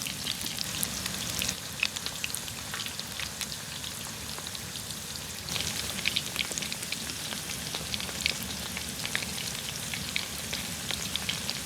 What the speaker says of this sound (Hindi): चिकन फ्राई कर रही है।